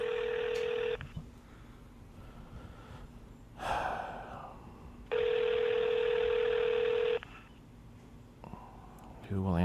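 Ringback tone of a telephone call waiting to be answered, two long steady tone bursts separated by a pause, clear and loud with faint background noise between them.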